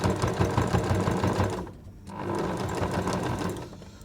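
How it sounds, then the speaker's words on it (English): A sewing machine stitches binding onto a quilt through about four layers of cotton and two layers of toweling, running loud and steady, pausing briefly near the middle, then starting up again. "you are now sewing through almost 4 layers of cotton and 2 layers of toweling"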